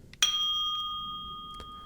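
A bright bell chime rings once, clear and close, with a long ringing tone that slowly fades, plus a faint small tap soon after.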